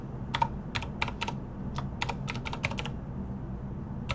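Keystrokes on a computer keyboard as a song file name is typed in the Retro Gadgets game, a dozen or so crisp separate clicks in uneven bursts over a steady low hum, with no talking.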